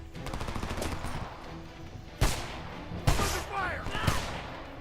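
Gunfire in the shooter video game Homefront, with a steady rattle of automatic fire and several heavier bursts and booms layered over dense battle noise, and a voice talking over it.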